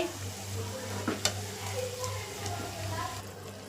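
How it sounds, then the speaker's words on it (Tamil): Masala sautéed in a pan while being stirred, with soft sizzling and a few scraping clinks of the spoon over a low steady hum. "இப்போ நல்லா இதை வதக்கி விடுவோம்"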